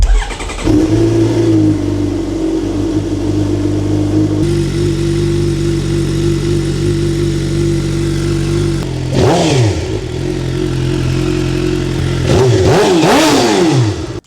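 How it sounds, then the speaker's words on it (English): A Suzuki GSX-R750 motorcycle engine, running poorly, idles steadily, then is revved several times in rising and falling bursts, loud and close. "see if the bike starts running any better."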